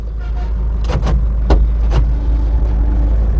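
A Mahindra Scorpio mHawk 2200cc diesel engine idles with a low, steady rumble heard from inside the cabin, with a few soft clicks and knocks over the drone.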